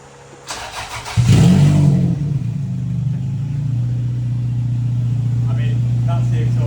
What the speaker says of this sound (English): That's the exhaust. You can't really get much louder than that. It just sounds like a straight pipes Corvette.